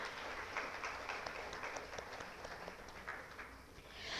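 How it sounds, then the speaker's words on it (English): Steady applause from an audience fills the whole stretch, dense overlapping clapping at an even level, fading a little near the end. "Ladies and gentlemen, I think he deserves an applause."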